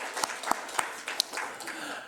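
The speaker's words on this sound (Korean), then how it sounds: "박수를 돌립니다." A church congregation applauds during a Sunday worship service. The clapping is moderate and scattered, with a few sharp individual claps standing out and a faint murmur underneath.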